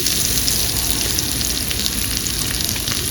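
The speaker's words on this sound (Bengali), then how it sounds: "আলুতে একটু লবণ হলুদ দিয়ে ভেজে নেব" Potatoes seasoned with salt and turmeric fry hard in hot oil, making a loud, dense, continuous sizzle that stays even from start to finish. No voices are heard.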